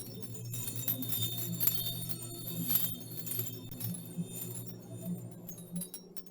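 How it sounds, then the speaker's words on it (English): Distant tinkling like crystal bells in the video game The Longest Journey: faint, scattered high chimes and jingles over a low steady hum, with no talk. "I can hear a distant tingling sound like crystal bells."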